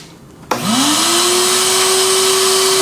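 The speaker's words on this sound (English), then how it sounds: "Let's plug in the shop vac, turn it on." A shop vac switches on with a sudden thump and spins up to a loud, steady whine that rises in pitch and then holds, running close and alone.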